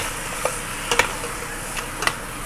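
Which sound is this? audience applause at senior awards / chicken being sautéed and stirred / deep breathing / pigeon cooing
chicken being sautéed and stirred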